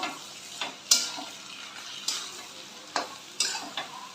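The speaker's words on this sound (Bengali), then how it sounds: "পরিমাণ মতো আদা বাটা আবার ভালো করে ভাজবো" Ginger paste fries with fish roe in a pan: a soft, steady sizzle under repeated scraping strokes of a spatula, several close, crisp scrapes spread across the stretch.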